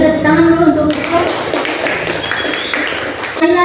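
A burst of hand clapping from a group of students in a classroom fills a few seconds, with a voice speaking Indonesian before and after it.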